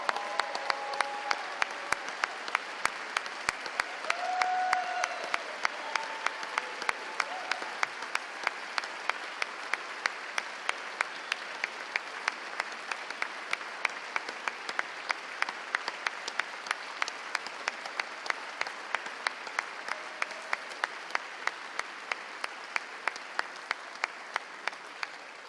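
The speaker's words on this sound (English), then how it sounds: "Let's give all these kids a round of applause." A crowd applauds children at a State of the State address, sustained dense clapping from a large audience that carries on for over twenty seconds with a few louder individual claps standing out, and faint voices mixed in.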